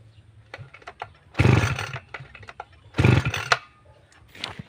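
A 2-stroke grass cutter engine is pulled repeatedly but will not start, giving two short roaring bursts of cranking amid scattered clicks and rattles, close by.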